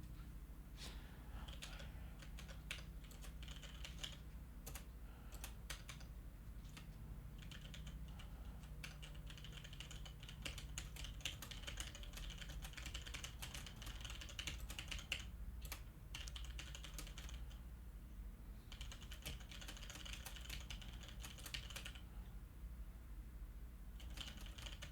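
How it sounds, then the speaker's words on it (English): Someone types fast on a computer keyboard for a long stretch, a quiet, steady stream of rapid key clicks with brief pauses against a low background hum. "I'm typing up a message really fast."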